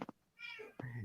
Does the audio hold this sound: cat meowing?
yes